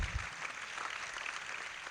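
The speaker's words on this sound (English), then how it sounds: "So please, with the loudest applause, please help me welcome Layuba Yamalik Jew" Audience applause at a campus tour event, a steady wash of clapping filling the room for about two seconds with no voices standing out.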